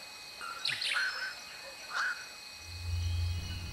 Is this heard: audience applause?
no